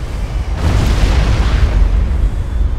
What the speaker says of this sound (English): Big explosion, middle of the air, nice big crater.